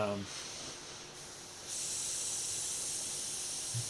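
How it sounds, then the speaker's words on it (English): A steady airbrush hiss sprays dye continuously, growing louder partway through and holding steady, with a brief bit of voice at the very start. "I spray out the dye out of each one before I go to the next color."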